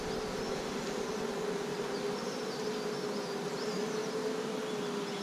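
Overwintered honeybees hum steadily and close during transfer from a nuc into a full-sized hive, a dense, continuous buzz with a faint wavering drone riding on top and no talk.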